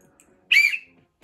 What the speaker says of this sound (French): à la 9e minute de jeu, l'arbitre, il va siffler